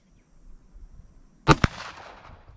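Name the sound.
Ruger GP100 revolver gunshot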